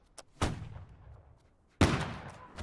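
Two booming musket volleys ring out in a Holdfast: Nations At War line battle, a sharp blast followed after a pause by a louder, fuller crash of fire, with quiet gaps between.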